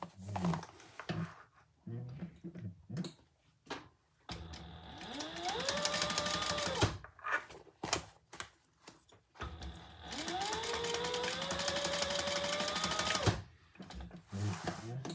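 A sewing machine runs in two sustained bursts of rapid whirring while back stitching a crossbody bag, ramping up and whining steadily, with handling clicks and fabric rustle between.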